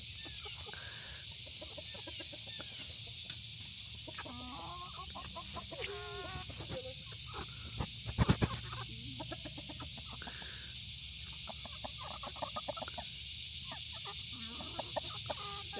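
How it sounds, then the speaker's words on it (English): Chickens cluck and murmur nearby in irregular bursts, with a sharp thump midway, over a steady background hiss. "We're coming out to feed the chickens."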